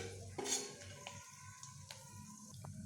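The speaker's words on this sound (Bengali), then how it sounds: "ফোড়নগুলোকে আমি একটু নেড়ে চেড়ে নেব এভাবে নাড়তে থাকবো" Tempering spices with a bay leaf stirred in hot oil in a pan, with faint sizzling under a few light clinks and scrapes of a spoon against the metal.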